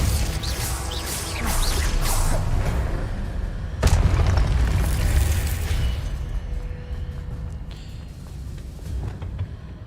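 Spell effects from the Hogwarts Legacy video game, Expelliarmus and Glacius, come as loud booming blasts and crashing impacts with a sharp burst near the middle. The effects stay close and dense throughout, and no one talks over them.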